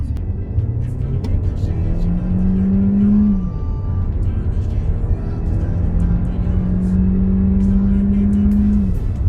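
A Mercedes A-Class engine revs loudly from inside the moving car, rising in pitch through two long pulls with a gear change between them, close and continuous.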